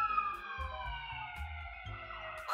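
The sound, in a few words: ambulance siren passing by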